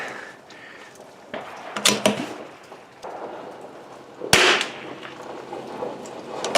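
CZ 457 rifle fired at an outdoor range in cold, snowy weather: several sharp cracks spaced a few seconds apart, with loud close reports and softer handling noise between them.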